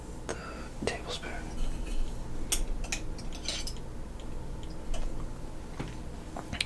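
A tablespoon is picked up from among kitchen utensils while making overnight oats, giving a few light metallic clinks and taps close by under soft whispering.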